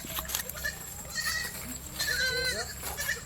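A small herd of goats, mother goats with young kids, bleats repeatedly at close range, overlapping high calls over a busy farmyard background.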